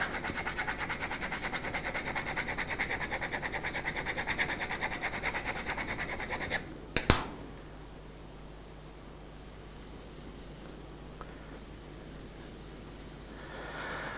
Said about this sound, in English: now with this cloth, we're going to start rubbing on our tonal value